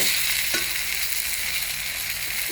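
Sigarilyas, bataw and mustasa vegetables sizzle steadily in a hot pan, a dense continuous frying hiss with a couple of faint stirring scrapes, close and moderately loud, no talking.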